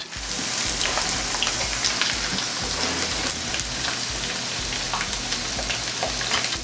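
Salted fish fries in a pan with a loud, dense crackling sizzle that holds steady throughout, close and unbroken, with occasional sharper pops and no voices.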